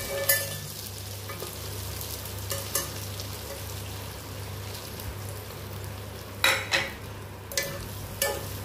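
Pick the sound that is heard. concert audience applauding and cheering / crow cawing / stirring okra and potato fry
stirring okra and potato fry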